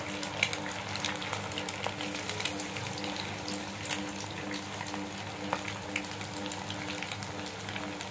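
Egg pakoda fries in hot oil, a steady, soft bubbling sizzle with small crackles and pops running evenly throughout.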